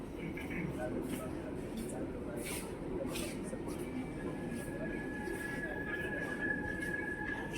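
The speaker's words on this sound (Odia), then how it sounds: "train to Bilpanagar Depot Metro is arriving on platform 6." Metro train rumbling into an underground station platform in Chennai, a steady loud roar of wheels and carriages with a faint high whine throughout, while platform announcements and other voices are heard underneath.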